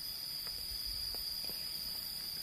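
Cicadas in a durian orchard in Kaligesing, Purworejo, keep up a steady, high-pitched, faint buzzing drone with no pauses.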